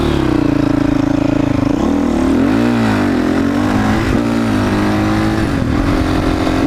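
Honda CRF 450 supermoto motorcycle engine running loud and steady, close by, with the pitch sagging and climbing in repeated revs over a constant low mechanical drone, no talk.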